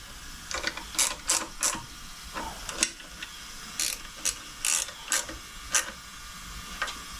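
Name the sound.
10 mm ratcheting wrench tightening carb screws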